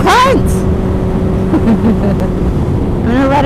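A car drives steadily with a constant engine and road hum, close by, while a voice briefly talks over it at the start and end.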